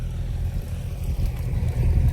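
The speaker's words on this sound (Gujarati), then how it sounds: "આ એમનું ટ્રેક્ટર પણ લઈને આવી ગયા" An old tractor engine arrives at a village farm with a low, steady, chugging rumble close by, mixed with some wind noise.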